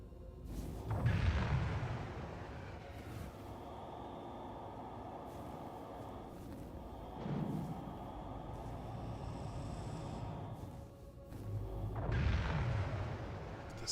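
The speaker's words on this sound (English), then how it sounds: "The sound of the thrusters kicking on, man, it's nice. It's like very military sounding thrusters." Aegis Redeemer spaceship thrusters in Star Citizen fire up in loud, deep roaring bursts with a heavy low rumble, swelling at the start, again briefly midway and once more near the end over a steady engine hum.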